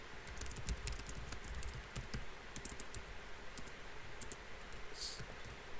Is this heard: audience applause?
no